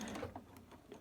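A sewing machine with a walking foot stitches through foam at a 2.5 stitch length, giving a quiet, quick mechanical chatter of needle strokes at close range with no voices.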